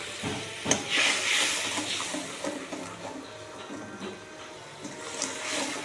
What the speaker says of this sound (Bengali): ভালো করে কষে নেব মশলাটা।